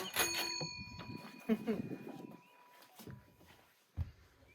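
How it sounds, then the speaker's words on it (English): A doorbell chimes at the start of a tiny house, its ringing tone fading out, followed by shuffling footsteps and a couple of soft knocks nearby. "Ring the doorbell."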